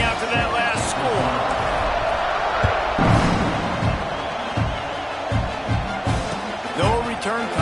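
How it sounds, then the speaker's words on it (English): Stadium crowd noise from an NCAA 26 college football video game, Auburn at Oklahoma, a dense continuous roar and buzz with swells of cheering, heard under a play-by-play commentator's voice. "this crowd is buzzing after that last score"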